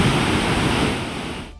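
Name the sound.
floodwater rushing over a washed-out footbridge path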